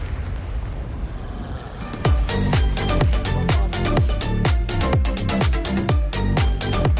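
Confringo blasting spell cast repeatedly in the Hogwarts Legacy video game, a rapid string of loud booming explosions and bursts over a dense rumbling battle din.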